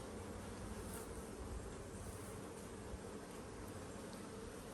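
Honeybees in an apiary hive give a dense, steady buzzing hum, close and continuous throughout, with no voices.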